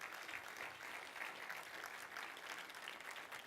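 Audience applause for Ted Leonsis, founder and chairman of Monumental Sports and Entertainment, at a startup accelerator finale event: a steady, moderately distant wash of clapping from a sizable crowd, sustained evenly throughout without pause.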